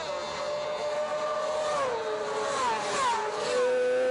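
600cc racing motorcycles at the 2006 Ulster Grand Prix roar past on a road course, engines screaming at high revs with pitch sweeping as riders change gear, steady and loud throughout with faint commentary beneath.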